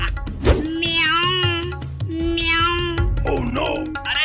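A cat meows repeatedly, several drawn-out wavering cries in a row, close and fairly loud over a low background.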